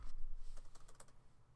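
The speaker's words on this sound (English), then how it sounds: "I will type in crop" Quick light keystrokes on a computer keyboard, a short burst of several soft clicks close to the microphone, quiet and alone.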